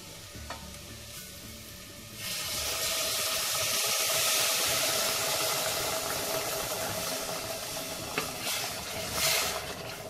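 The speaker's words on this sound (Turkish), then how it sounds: "Patateslerimizi ilave ettikten sonra 1 litre kadar sıcak suyumuzu ilave edelim" Hot water, about a litre, is poured onto potatoes in a pot for milk potato soup, setting off a sudden rushing sizzle and hiss after a couple of seconds that continues steadily to the end.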